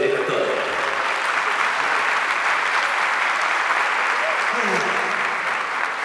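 Audience at a tango festival applauding a quintet after their performance, a thick, continuous roar of clapping from a sizeable crowd, steady and loud throughout, with faint voices mixed in.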